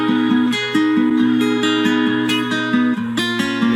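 Processed guitar sample drenched in reverb, thinned by an old-phone EQ preset and pushed with overdrive, playing a repeating plucked melodic figure that rings steadily and loud with no talking.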